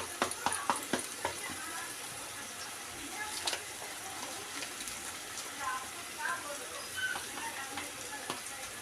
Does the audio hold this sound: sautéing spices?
yes